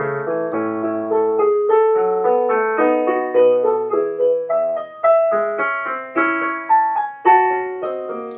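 Organ playing the second verse of a Lenten chorale setting, the melody set in a middle voice between an upper and a lower line, with steady sustained notes and lightly moving figuration, heard clearly without talk.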